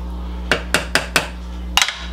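A utensil knocks against a pot of Spanish-style chicken soup with sazón as it is stirred, giving four evenly spaced metallic taps followed by a quick double clink, close and clear over a steady low hum.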